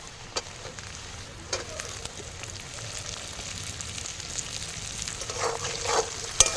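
Chopped cabbage dropped into hot oil with onions, frying with a steady close sizzle and occasional stirring scrapes, no voices.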